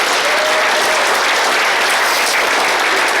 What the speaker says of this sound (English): I think you should give them a round of applause as well